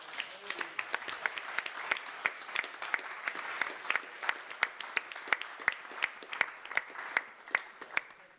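Conference audience applauding the technical team at a lab summit, sparse individual claps at first that thicken into a steady round of applause, moderately loud and carrying on to the end.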